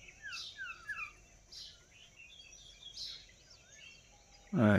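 Mynas and doves call outdoors in scattered bursts of sharp chirps and short whistled notes, fairly close but moderate in level, ending in a sudden loud rustle.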